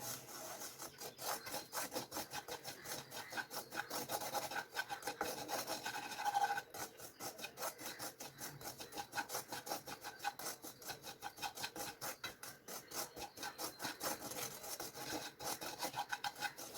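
Semolina being dry-roasted and stirred in a pan for jackfruit kesari, a steady close scraping and rasping that runs on without a break.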